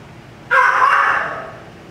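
A small dog lets out a single sharp bark that trails into a whining tail, loud and close against near silence.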